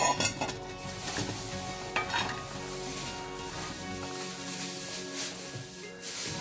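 Chopped raw mango pieces for a pickle are scraped and tipped into a pot, with clattering and scraping strongest near the start and again around two seconds, then a softer rustle.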